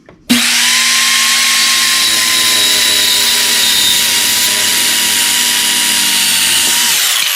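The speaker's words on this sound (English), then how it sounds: "the depth is set to cut the 2x4, so we're using the Diablo blade" Bauer compact circular saw fitted with a Diablo blade cutting through a 2x4, one loud steady high whine that spins up abruptly and runs without bogging down through the whole cut, close up with no talk.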